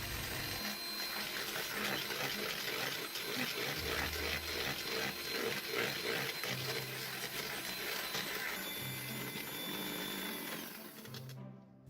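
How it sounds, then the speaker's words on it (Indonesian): Electric hand mixer whipping cassava snack batter with SP emulsifier until thick and white, a steady loud motor whir with rattling beaters running continuously before cutting off at the end. "Kemudian mixer hingga putih kental."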